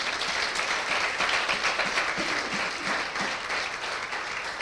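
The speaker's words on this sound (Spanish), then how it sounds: "Denle un aplauso al Señor." A church congregation claps in steady, sustained applause during a Spanish-language Christian sermon, a dense wash of hands filling the room, moderately loud and continuous throughout with no talk over it.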